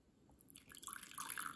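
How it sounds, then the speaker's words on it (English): Red cabbage pH indicator liquid is poured into small containers, a faint, close trickling and splashing that builds over about a second. "So I'm pouring a little bit into each of these."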